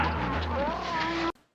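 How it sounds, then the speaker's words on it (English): Motorcycle sound effect from the film Deathsport: a loud, continuous engine whine with rising pitch sweeps, like a bike accelerating, lasting just over a second before stopping sharply. "Motorcycles are constantly moving in this movie."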